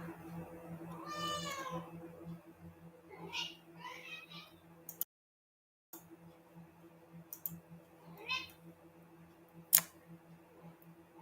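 A house cat meows several times in a quiet kitchen, with a couple of short high-pitched cries close to the microphone, a low steady fan hum underneath, a brief dropout and a sharp click near the end.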